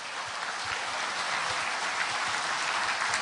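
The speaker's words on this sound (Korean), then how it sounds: "우리 총무과 스태프들을 향해서 큰 박수 한번 부탁드립니다." Applause for administrative staff at a court's public lecture series, a continuous wash of many hands clapping at once, even and sustained, somewhat distant, with no voices over it.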